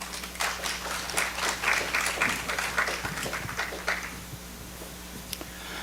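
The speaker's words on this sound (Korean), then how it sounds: "박수로 맞아주세요." A church talk-concert audience claps to welcome a guest pastor, a burst of many hands that swells, holds and then thins out toward the end, over a low steady hum.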